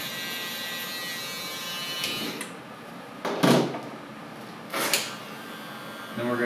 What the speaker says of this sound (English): Outliner, we're gonna go foil shaver,